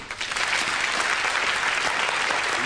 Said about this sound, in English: you give a nice round of applause to the medium, Miss Debbie McGee